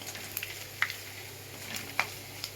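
Radhuni seeds tempering in hot oil for kochu shak with hilsa fish head, a faint steady sizzle with a few sharp pops and crackles standing out, close and quiet.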